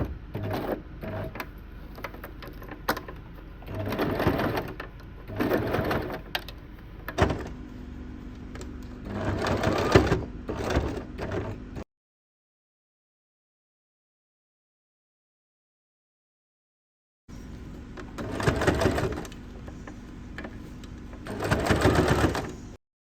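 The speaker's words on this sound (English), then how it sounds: "sew the pinned area and clean the seam with bias binding" A sewing machine sews pinned sling bag panels in several stop-start runs of motor whir, with a silent gap before two last bursts of stitching.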